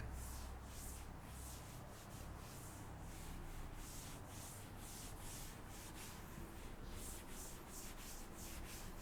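Chalk being rubbed off a blackboard with a steady, continuous scrubbing hiss, rhythmic back-and-forth strokes close by, with no voices.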